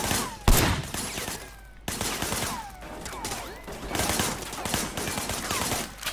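Gunfire rings out from cover in Sleeping Dogs: a sharp loud shot followed by repeated bursts and scattered cracks, close and punchy, with brief gaps between volleys.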